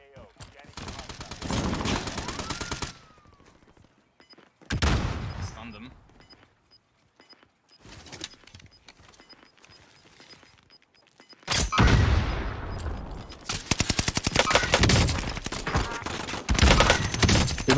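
Gunfire in Warzone on the Caldera map, with dense bursts of rapid automatic shots and booming impacts, alternating with quieter gaps; loud, close and repeated, with people talking at times.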